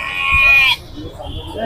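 A goat bleats once, loud and close, in a busy goat market, followed by quieter background murmur and crowd noise.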